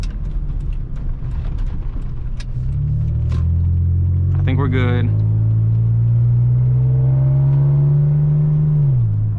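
A second-generation Toyota Tacoma truck engine with a modified exhaust idles with a deep, steady droning rumble, up close, and a person briefly speaks over it.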